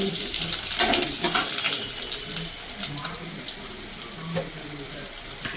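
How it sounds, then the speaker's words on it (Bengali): Potatoes fry in hot oil in a pan with a fresh bay leaf added, for a cauliflower and potato dish. A steady close sizzle hisses throughout, dotted with small crackles and pops. "আলুটা আমার ভালো করে ভাজা হয়ে গেছে। এবার আমি দিয়ে দেবো মশলাটা। একটা তেজপাতা দিলাম।"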